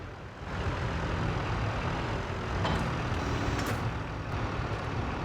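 A farm vehicle reverses near a greenhouse in Farming Simulator 22, a continuous loud engine rumble with a short hiss and faint high beeping partway through, steady and close.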